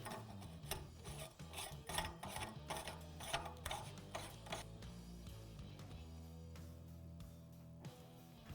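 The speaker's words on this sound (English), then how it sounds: "we'll tighten it down using a strap wrench" A strap wrench tightens the threaded reservoir cap on a WP linkage-style rear motorcycle shock, producing quiet, repeated rasping strokes in a regular rhythm that settle into a steadier grinding rub.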